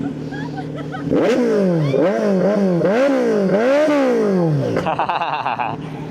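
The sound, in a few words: Kawasaki Z900 big bike engine revving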